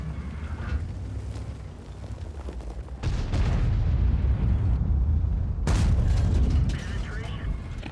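Artillery shells burst near a tank in the World of Tanks video game: two heavy, close booms with rumbling tails, the second a few seconds after the first, over a constant background of battle noise.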